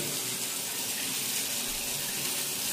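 Water runs steadily from a kitchen faucet in South Korea, a close, dense, even hiss and splash lasting the whole moment without speech.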